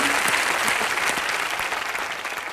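Loud, steady audience applause in a TV comedy show studio, dense continuous clapping from a large crowd that fades slightly toward the end.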